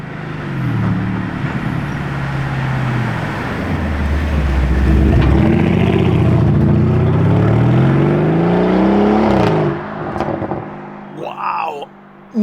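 A Lamborghini hybrid car accelerates past outside the factory, its engine note rising and falling loudly up close for several seconds before fading, with a brief voice near the end.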